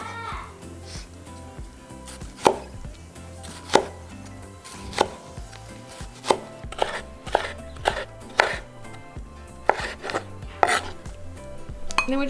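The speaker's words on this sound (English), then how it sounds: "I'm going to start with the tomato and we're going to cut it into small little cubes" Knife chopping a tomato into small cubes on a cutting board for chicken chimichangas, a steady run of sharp, close knocks at an uneven pace.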